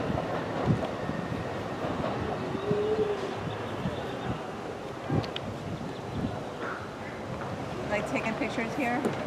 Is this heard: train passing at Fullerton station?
yes